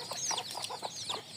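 Desi hens on a small village farm cluck in quick, short bursts, several close, soft calls tumbling over one another with no talk.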